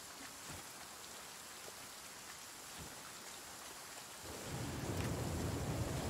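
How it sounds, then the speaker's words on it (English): Rain falls steadily in The Flame in the Flood game, a soft continuous patter with low thunder rumbling that swells louder near the end. "As rain get closer, seek shelter and wait for it to pass."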